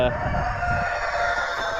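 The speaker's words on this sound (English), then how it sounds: "I hear you, Rooster." A rooster crows loudly and close by, one long drawn-out call that carries through the whole moment.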